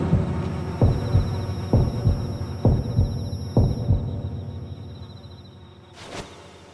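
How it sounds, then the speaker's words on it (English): A heartbeat effect in the horror game Yomawari: Lost in the Dark throbs as low, heavy double thumps in a steady rhythm over a faint hum, gradually fading before a brief whoosh. "wait for the heartbeat sound to subside before picking anything up"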